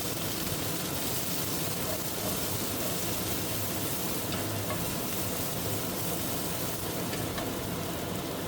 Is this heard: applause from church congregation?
no